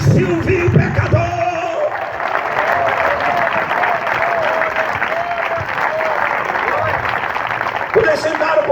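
A church congregation at a Saturday service claps in sustained, dense applause lasting several seconds, with shouts and cheers mixed in and a preacher's voice heard over it at the start and end.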